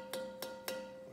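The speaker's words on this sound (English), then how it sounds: "this one I did not add the liquid to, and it sounds like this." Fired clay pot made without plant juice, a buff-colored piece, struck three times at a steady pace, each tap giving a faint, sustained ringing tone that decays slowly in a quiet room.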